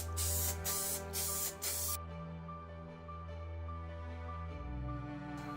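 Spray paint hisses onto a model UFO piece in several short, loud bursts, then stops, leaving a quiet room hum.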